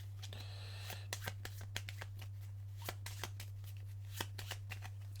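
Playing cards for the board game Cartographers are shuffled in a series of crisp riffling bursts close up, with a steady low hum underneath and no talking.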